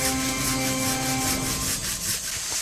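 A hand saw rasps steadily through the wood of a persimmon tree outdoors, close and loud, in a continuous run of quick back-and-forth strokes with no talking.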